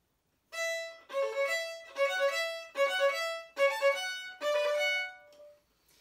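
Five fast bowed string phrases played in a string quartet practice setting, each one opening with a lengthened first note before quick sixteenth notes follow, clear and close with short pauses between runs.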